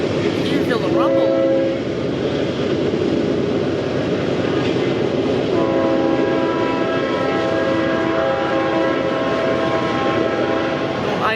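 A loud train horn blares in long sustained chords over a steady, heavy rail rumble close by.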